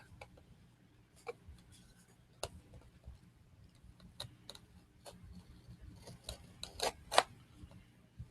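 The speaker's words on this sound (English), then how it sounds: "So we're going to see if I can peel this off as much as I can." A glued label is peeled off Nintendo amiibo packaging, giving small crackling, tearing scratches in uneven bursts that grow denser and louder near the end. Close and fairly quiet, with no talking.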